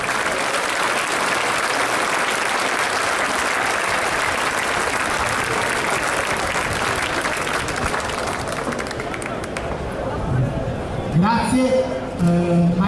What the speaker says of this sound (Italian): l'applauso possa proseguire per un applauso allo speaker